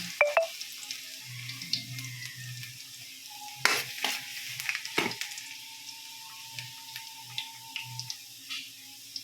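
Garlic hits hot cooking oil in a pan during an abalone stir-fry, giving a steady sizzle with a few sharp utensil clatters and soft stirring taps, close and moderately loud with no talking.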